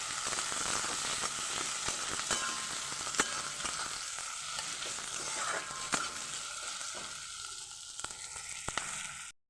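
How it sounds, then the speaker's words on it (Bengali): Chopped onions frying in a pan give a steady, fairly quiet close sizzle, with sharp clicks of stirring scattered through, before the sound stops abruptly at the end. "পেঁয়াজগুলোকে ভালোভাবে ভেজে নেব"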